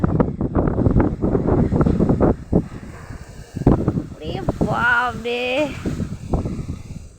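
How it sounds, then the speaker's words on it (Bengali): Gusty wind on a rooftop buffets a microphone with a low, rumbling roar, while voices speak faintly beneath it. "যা হাওয়া দিচ্ছে শীত ধরে যাচ্ছে বন্ধুরা"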